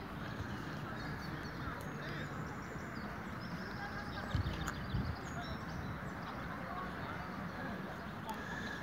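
Geese honk sporadically in the distance beneath a steady wash of crowd chatter and outdoor noise from people picnicking and grilling in a park.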